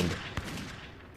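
Designed gunfire effect, a muffled rumbling volley with two sharp shots standing out, at a mid distance in a tense wartime setting.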